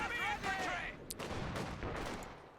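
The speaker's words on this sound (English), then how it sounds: "Incendiary grenades going off." Incendiary grenades and gunfire in the Company of Heroes 2 strategy game: muffled bursts and crackling battle noise beneath a tonal game soundtrack, with a sharp burst about midway.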